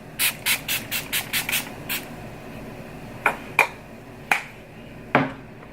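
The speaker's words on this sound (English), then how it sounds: "I'm going to take this Hangover 3-in-1 Too Faced setting spray" Several short, sharp hissing bursts of Too Faced Hangover 3-in-1 setting spray misted onto a face: a rapid run of about eight spritzes, then four more spaced out, close and fairly loud.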